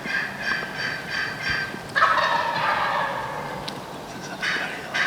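Wild turkey gobbling in the distance during Kentucky turkey season, a few rattling gobbles rising over quiet outdoor ambience with faint background noise.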